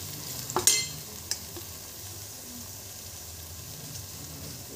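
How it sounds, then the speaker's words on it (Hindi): Masala of ginger, garlic and onion stirred and frying in a pan, with a few quick scrapes near the start, then a soft, steady sizzle throughout. "अब इसमें देखिए मसाला ये भूनते आ गया है, करीब करीब भून गया है ये।"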